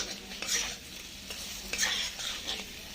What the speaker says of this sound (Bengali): পটলগুলোকে দিয়ে আমি কষাবো